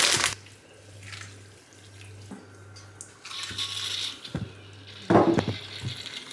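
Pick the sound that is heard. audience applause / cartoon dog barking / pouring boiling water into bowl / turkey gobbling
pouring boiling water into bowl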